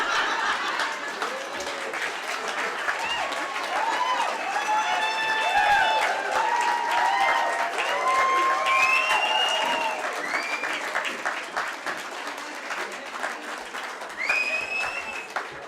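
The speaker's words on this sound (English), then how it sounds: "Give him another round of applause." At an Indigenous arts awards ceremony, a large audience keeps up sustained applause that swells and slowly thins, with scattered cheers and excited voices calling out over the clapping.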